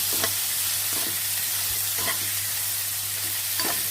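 Brinjal sautés with a little salt in hot oil, a loud continuous sizzle broken by rhythmic scraping strokes of a spatula roughly every second, with no one speaking.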